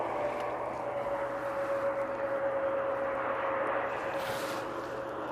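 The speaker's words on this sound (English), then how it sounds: "that noisy thing you can hear is the ATR making its way to stand" An ATR turboprop taxis to stand at Manchester Airport, a loud, steady engine drone with a sustained whining tone running throughout, close by and unbroken by talk.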